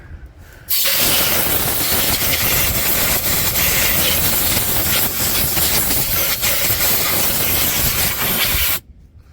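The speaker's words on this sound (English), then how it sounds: "And that helps to clean things up here if you got some compressed air." Compressed air blowing off the front brake rotor of a 1983 Ford E350, a loud continuous close hiss that starts abruptly and cuts off near the end, with no talking.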